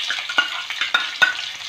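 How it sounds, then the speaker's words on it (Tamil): Large sliced onions fry in a pan with clove and fennel for mutton biryani, a crackling sizzle broken by several quick spoon scrapes, close and short. "இப்போ கட் பண்ணி வச்சுருக்க பெரிய வெங்காயம் இதில் ஆட் பண்ணிக்கலாம்."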